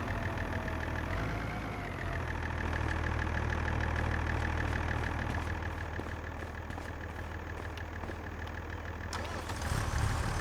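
A tractor engine idles in a farming video game, a low steady rumble with a faint knocking pulse that runs evenly throughout at moderate level, no voices.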